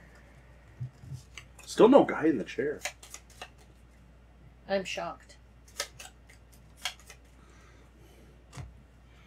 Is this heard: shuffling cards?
yes